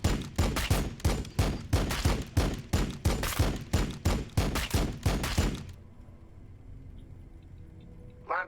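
Rapid bursts of gunfire from the strategy game Warhammer 40,000: Battlesector, with about a dozen loud evenly spaced shots over five seconds, then sudden quiet with a faint low background hum and a last soft thump.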